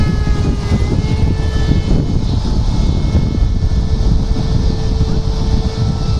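HobbyKing F5E radio-controlled jet with a 70mm electric ducted fan on 4S power, flying with retractable gear, a loud continuous whine and whoosh with a steady tone throughout.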